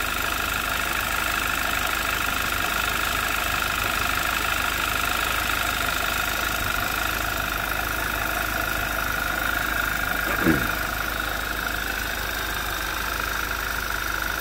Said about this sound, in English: I just hear normal engine sounds